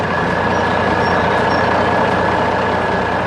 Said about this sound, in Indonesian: Mesin konstruksi kuning besar sedang bekerja di tengah gunung yang keras, menarik beban besar dengan semangat yang luar biasa.